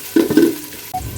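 Chopped onions fry in hot oil for beef biryani, a short burst of close stirring and scraping over a soft sizzle, with no voices.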